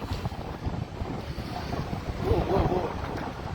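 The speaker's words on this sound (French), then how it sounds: "il y a un vent qui passe là" Wind blows hard and continuously across the microphone outdoors as a dense low rumble, with a faint voice murmuring briefly in the background.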